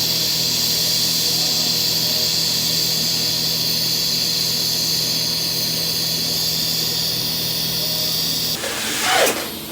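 Arc welding lays a bead on a cast steel Dana 44 axle truss, producing a steady loud buzzing hiss that runs continuously, then breaks off into a brief burst of noise at the end.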